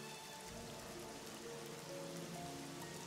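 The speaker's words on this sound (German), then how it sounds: "es strömender Regen nach unten perlt" Heavy pouring rain hisses steadily and evenly for the whole stretch, a dense wash of drops drumming on surfaces with no other sound.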